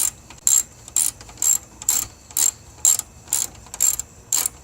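A ratchet tightens the battery hold-down on a 2006-2012 Toyota RAV4, giving about ten evenly spaced, crisp clicking bursts close to the listener.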